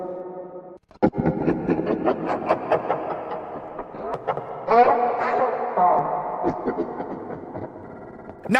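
Revenant Freddy's attack cue from a fan-made FNAF horror game: a sudden loud burst after a short quiet gap, followed by dense, echoing, clanging and warbling electronic noise that pulses irregularly for several seconds.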